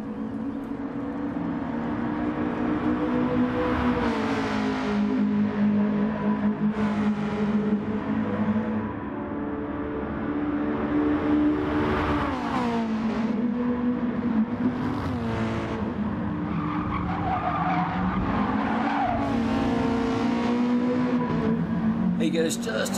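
Race car engines scream and rev steadily on a track with a downhill run into a hairpin, a continuous loud whine that rises and falls as the cars pass, with someone talking over it throughout.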